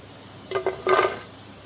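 Two quick bursts of crisp rattling and clinking as crispy french fries tumble onto a dish, close by and brief, with no talking.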